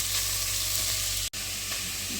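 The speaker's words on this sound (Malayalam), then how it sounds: "നന്നായി ഇളക്കണം. ഉള്ളി നന്നായിട്ട് വാടണം." Onions sauté in oil in a pan in a small kitchen while preparing beef, a steady close sizzle with stirring scrapes and a brief cut in the sound partway through.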